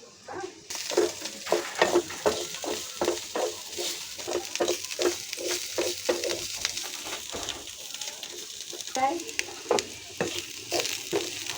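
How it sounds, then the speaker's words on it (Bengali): Bitter gourd and potato frying together in a pan, with a continuous soft sizzle and a quick, regular series of stirring scrapes up close, then a slower, more uneven stretch of stirring. "আলু দিয়ে তিতা করলা ভাজি করতেছি।"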